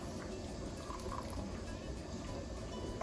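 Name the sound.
pouring mushroom broth into pint jars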